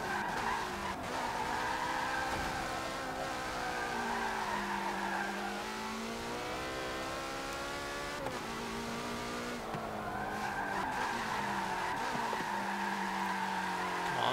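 In Forza Motorsport 7, a racing car slides with tires skidding and squealing continuously over a revving, pitch-shifting engine, loud and close throughout.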